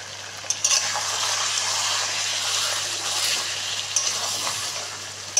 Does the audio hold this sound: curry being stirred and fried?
yes